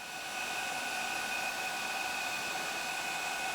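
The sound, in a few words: RC hydraulic crane JX-F1650 pump lifting middle arm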